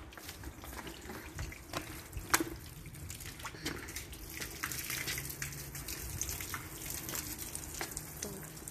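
Water runs steadily from a hose outdoors during a cleanup of dust, a continuous splashing hiss with a few sharper spatters, fairly close and alone without talk.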